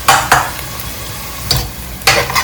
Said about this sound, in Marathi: कांदा आपल्याला एकदम असा बरिस्ता कसा असतो तसा आपल्याला करून घ्यायचा आहे एकदम डार्क ब्राऊन करून घ्यायचा आहे